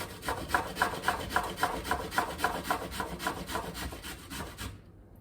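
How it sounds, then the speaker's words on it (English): A small chunk of zucchini scraped over a fine kitchen grater in quick, even back-and-forth strokes, a close, regular rasp that stops abruptly at the end. "And a small chunk of zucchini. I'm going to grate that also on the fine."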